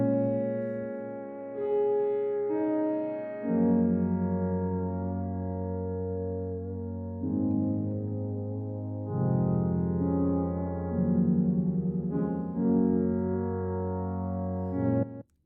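A lush synth pad preset from the Shearwater piano plays sustained, layered chords that shift every few seconds, warm and full, with no voices.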